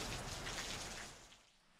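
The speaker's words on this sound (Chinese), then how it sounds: "今天又下大雨" Heavy rain pours steadily in a seaside fishing village, a dense broadband hiss that stays loud before easing slightly toward the end, with no voices.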